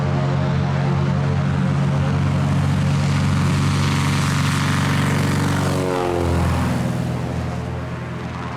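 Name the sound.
Cessna 170 light airplane taking off from a gravel bar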